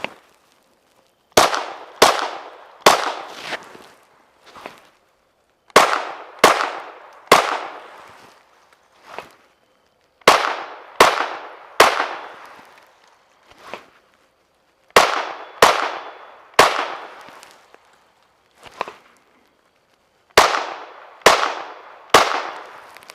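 Ruger LC Carbine in 5.7x28mm fires a series of sharp, loud gunshots, mostly in quick groups of three or four with pauses between, each crack followed by a brief ringing decay; no talking.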